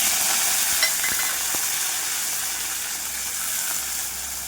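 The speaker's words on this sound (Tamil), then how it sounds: "இது லெமன் ரைஸ்க்கு கடலைப்பருப்பு, உளுத்தம்பருப்பு, வேர்க்கடலை வறுத்துட்ருக்கேன்" Chana dal, urad dal and peanuts fry in oil with mustard seeds for lemon rice. A steady, close hissing sizzle runs throughout, with a few faint stirring clicks and no talking.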